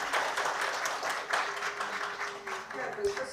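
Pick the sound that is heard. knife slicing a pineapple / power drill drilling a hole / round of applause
round of applause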